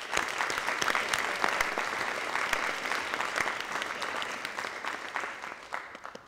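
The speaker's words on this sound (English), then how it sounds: "Let's give yourself a round of applause." An audience applauds steadily and fairly loudly for several seconds at a high school band award ceremony, clapping dense and even before thinning toward the end.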